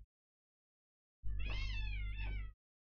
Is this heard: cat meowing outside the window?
yes